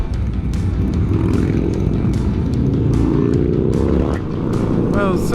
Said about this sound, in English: this girl's bike is loud as fuck